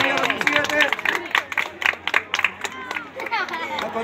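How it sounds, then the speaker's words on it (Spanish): A crowd claps and cheers at a junior football team award ceremony, with steady applause mixed with chatter and voices rising over it. "Aplauso, por favor."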